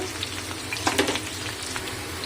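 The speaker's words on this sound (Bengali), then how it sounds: "তেলের ওপরে আলুটা দিয়েছি তেলটা ছিটকাচ্ছিল" Potatoes with salt and turmeric fry in hot oil, sizzling steadily with sharp spattering crackles as water on the potato hits the oil, a dense close hiss with a few louder pops near the middle.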